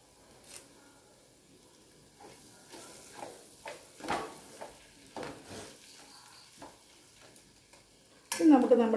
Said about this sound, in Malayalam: അതിൻ്റെ കൂടെ തന്നെ കുറച്ച് നമുക്ക് കറിവേപ്പില ഇട്ടൊന്ന് ഇളക്കി കൊടുക്കാം.